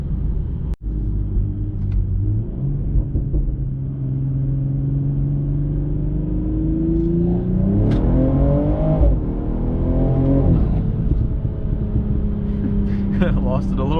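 Tuned BMW M240i (G42) accelerating hard at night, a loud droning engine rising in pitch through the gears with a brief shift dip and a tire chirp as traction breaks in second, heard from inside the car.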